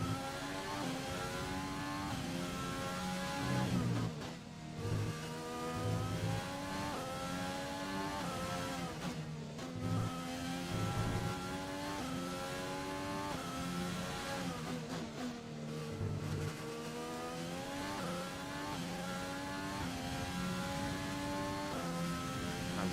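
A Formula 1 race car engine in F1 2020 at the Russian Grand Prix, screaming loudly and continuously through rising harmonic sweeps as it accelerates, with brief dips where it lifts and shifts before climbing again, no talk over it.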